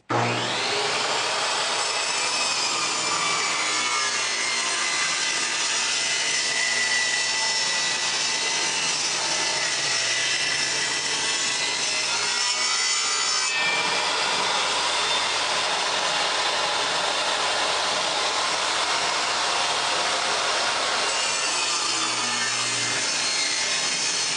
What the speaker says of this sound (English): So I'm just going to set this one up, we'll run this through, get our tongue side cut off